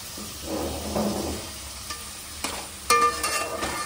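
Chicken sizzles in a pan with onion and whole spices while a utensil stirs and scrapes, with a few sharp clinks toward the end, close and steady.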